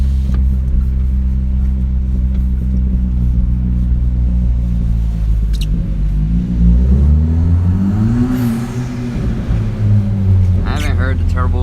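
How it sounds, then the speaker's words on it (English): A Chevrolet Cruze with a turbo accelerates: a loud, steady engine rumble throughout, with a rising whine as the turbo spools up about two-thirds of the way in. "I haven't heard the turbo spool up like that in a really long time"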